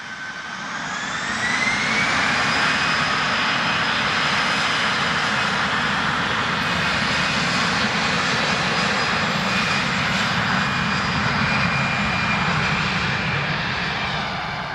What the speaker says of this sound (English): So this is the only A330-200 passenger version with Tap Now.